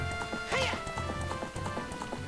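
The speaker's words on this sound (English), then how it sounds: "I love being on the horse." Horse hooves clip-clop at a quick gallop in The Legend of Zelda: Ocarina of Time, a rhythmic run of hoofbeats with a brief whinny near the start over steady game music.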